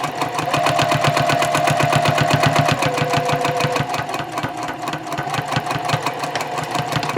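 A sewing machine runs top stitching along the edge of a small key fob coin pouch, a fast, even mechanical chatter of needle strokes, close and continuous for several seconds with a slight change in pitch midway.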